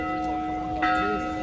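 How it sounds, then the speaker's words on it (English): Bells ring at a Greek Orthodox church on the Mount of Olives during the Palm Sunday procession, steady metallic tones sounding over a busy outdoor crowd hum. "And can you hear the bells?"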